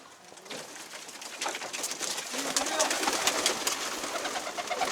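Soft, low pigeon coos repeat amid fluttering and bird chatter, with faint background noise throughout.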